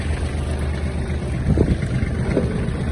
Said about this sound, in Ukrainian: Глушиться трактор.